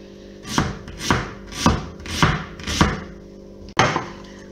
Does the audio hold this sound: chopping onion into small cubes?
yes